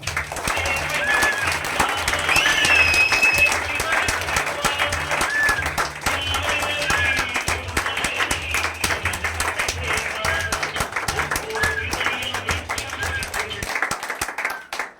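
An audience applauds, a sustained crowd of many hands clapping loudly and steadily for about fourteen seconds before stopping, with tones from a music track audible underneath.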